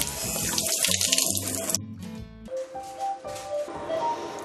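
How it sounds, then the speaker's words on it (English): Running water from a sink tap pours steadily as a surgeon scrubs hands before dog keyhole spay surgery, with a quieter trickling and splashing phase toward the end; no talk is heard. "So I'm going to scrub, get my hands nice and clean"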